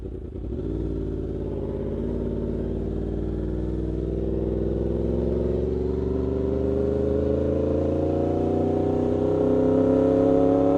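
A Yamaha R1 sport motorcycle with a new sprocket idles close by as it warms up, its steady engine note slowly climbing in pitch over several seconds with no talking.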